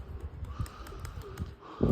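Male pigeons outdoors, soft low cooing with faint wing flutters and light chirps, quiet and close against a muffled outdoor background.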